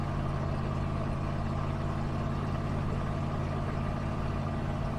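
A vehicle idles steadily with its exhaust fallen off, giving a throaty, low, continuous drone. The rumble is close and even throughout, with no voices.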